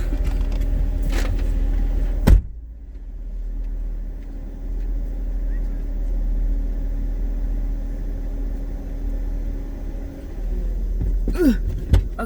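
A car's engine hums low and steady as it slowly circles a parking lot during a driving lesson, with a brief thump near the start and faint rattles near the end.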